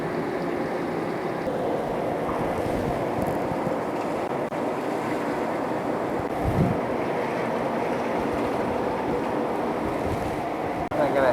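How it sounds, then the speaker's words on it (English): Steady rushing flow of liquid pouring into a chemical bath during an RCA clean, a continuous broadband wash that holds level throughout with a brief thump midway. "Now I'm filling up the second bath."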